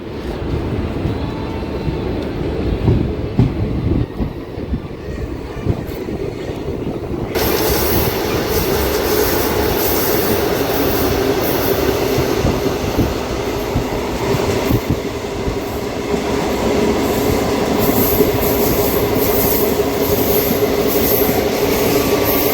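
A DEMU train departs Linganeni Doddi railway station, its rumble and rolling wheel clatter heard from on board, growing into a louder, steadier roar partway through, continuous without speech.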